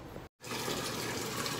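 Water pours into a container in a steady, fairly quiet hissing rush, briefly cut off near the start before the flow resumes.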